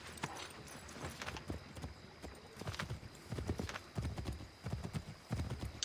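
Horse hooves clip-clop in a steady, close rhythm as a mount trots through the Assassin's Creed 3 video game world, with faint voice-like sounds in the background.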